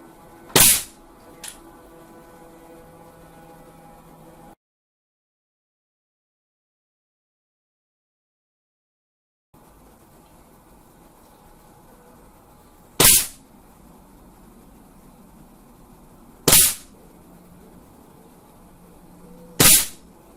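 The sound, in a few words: Chinese B1 .22 rifle shots while zeroing at 10 yards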